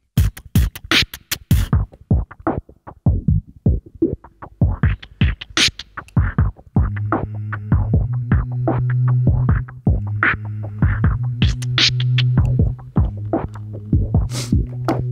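Beatboxed beat looped on a loopstation with a filter track effect, starting as sharp percussive hits and then shifting to a filtered, humming, throbbing loop with a sustained low tone under the rhythm; no talking.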